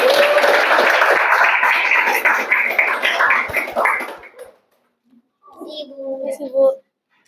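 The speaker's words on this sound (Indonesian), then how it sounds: "beri tepuk tangan untuk tempat kelompok" Classroom applause from a group of children and students, a dense burst of clapping for about four seconds that fades out, followed by a short spoken voice.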